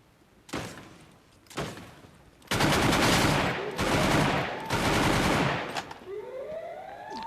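Rocket launcher fire in a battle royale video game: a couple of sharp blasts, then a long roaring barrage of heavy explosive bursts, ending in a rising whistling tone as it fades.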